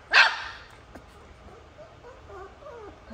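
A 4-week-old doodle puppy lets out one sharp, high-pitched yip up close, followed by faint whimpering and soft squeaks in a quiet room.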